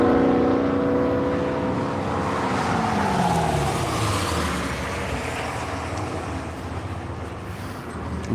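A Corvette E-Ray race car drives past on a track during the Tire Rack One Lap of America at Hedge Hollow, its engine tone sweeping down through the pass under steady roadside rumble.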